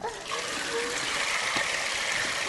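Water trickles and splashes steadily into a kettle for a few seconds, close by and fairly soft, as if poured from a container.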